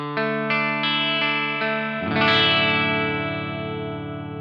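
Electric guitar, a Les Paul, through an amp with no pedal: a few sustained clean notes picked in sequence, then a ringing chord strummed and left to decay.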